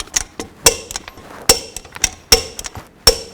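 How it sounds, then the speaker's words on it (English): A torque wrench tightens lug nuts on a 2000-2006 Chevy Tahoe wheel to 140 foot-pounds, giving about six sharp, close metallic clicks at irregular intervals with no talk. "Now I'm going to torque these lug nuts to 140 foot-pounds in a cross pattern so that it tightens the wheel down evenly."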